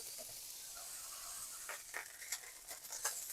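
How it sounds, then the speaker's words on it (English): Smash burger patty sizzling on a hot griddle, a steady bright hiss throughout with a few sharper crackles and spatters near the end, close and fairly quiet. "So I went ahead and started frying my burger"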